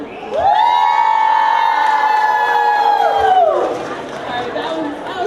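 A large crowd cheers and applauds loudly in a sustained roar of voices and shouts, swelling for a few seconds and then tapering into lighter chatter.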